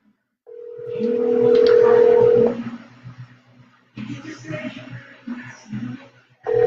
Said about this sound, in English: Make a telephone call downstairs.